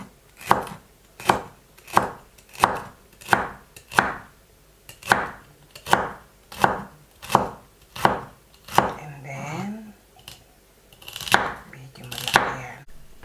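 A knife chops celery on a cutting board for an octopus dish with bell pepper and spring onion, giving a steady run of sharp, close, evenly spaced cuts. There is a short pause partway through, and then a few more quick chops.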